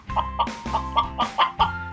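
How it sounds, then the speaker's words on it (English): A chicken clucks in a quick rhythmic series of short, close, fairly loud calls, heard alone from a children's toy animal-sound quiz. "That's what a chicken sounds like."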